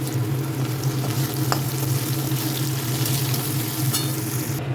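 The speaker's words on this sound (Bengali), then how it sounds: "গাজর, বিনস আর ক্যাপসিকাম তেলের মধ্যে দিয়ে দিলাম।" Carrots, beans and capsicum fry in hot oil with a loud, constant sizzle and crackle, plus a low steady hum and occasional stirring clicks.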